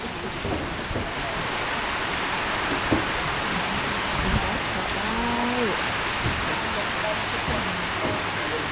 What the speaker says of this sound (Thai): ฝนก็ตกลงเม็ดปล่อยๆนะครับ